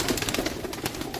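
Pigeons cooing softly, a brief run of low, throaty coos close by with a faint rustle around them.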